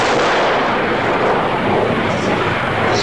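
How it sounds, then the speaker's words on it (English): Vietnam War bombing, a dense continuous roar of heavy blasts and rumbling explosions close by, loud throughout with no pauses. "The bombs come in, I don't like that."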